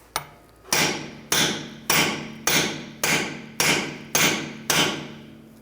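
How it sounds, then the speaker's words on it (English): Nine heavy metal hammer blows strike a seized rear brake part on a 1999-2005 Volkswagen Jetta, one early hit followed by a steady run of eight evenly spaced, loud, ringing impacts with no talk. "Just twist it, hit it with a hammer"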